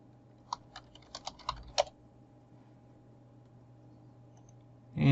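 Quick bursts of computer keyboard typing, a handful of close, light clicks over about a second and a half, then near silence with a faint background hum.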